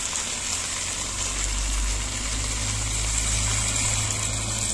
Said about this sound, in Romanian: Acum pun apă.